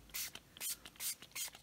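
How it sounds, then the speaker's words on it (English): Several short hissing bursts of spray paint onto a stencil, close and crisp, coming in quick pulses with brief pauses between them. "So now we're just going to spray this onto here."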